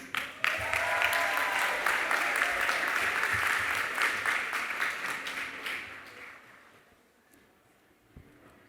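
An awards-ceremony audience breaks into full applause, dense and even for several seconds before thinning and fading away to near silence, with a lone clap or two at the end.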